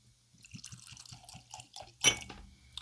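Hendrick's Flora Adora gin pours from the bottle into a glass in a run of rhythmic, close glugs, ending with a louder splash and clink as the liquid hits.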